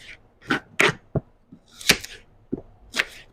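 Knife chopping onions lengthwise for a sorakai recipe, a handful of sharp, close cuts in an irregular rhythm with brief pauses between strokes.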